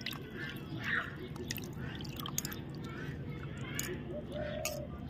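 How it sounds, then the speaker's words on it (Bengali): Raw boneless chicken pieces being washed and squeezed in water, with soft splashing, dripping and squishing sounds close by at low volume. "আমি জল দিয়ে দিচ্ছি আর ভালোভাবে এটা পরিষ্কার করে আমি ধুয়ে নিব"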